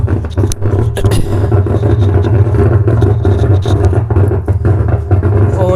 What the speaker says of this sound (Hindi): बट यहाँ पे जो सड़सड़ाहट की आवाज़ आ रही है, यानी कि भर भर भर इस तरह की जो साउंड आ रही है